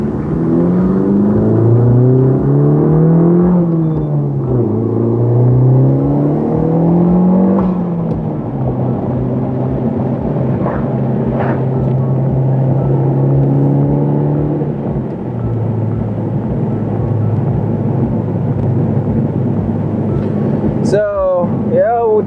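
Car with a 27WON W2 turbo on 91 fuel accelerating through gears on a canyon road, engine pitch climbing and dropping with each shift, loud from inside, with someone talking over it.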